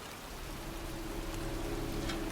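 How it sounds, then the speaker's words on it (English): Pouring rain over a cemetery in the Heavy Rain video game, a quiet, even hiss with a low steady hum underneath, heard alone without talking. "standing in a cemetery, pouring rain"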